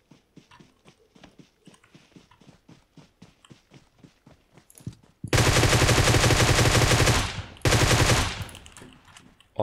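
Sustained automatic gunfire from a Groza rifle in PUBG Mobile, loud and close in two long dense bursts near the end, after several seconds of quieter rhythmic footsteps and small clatter.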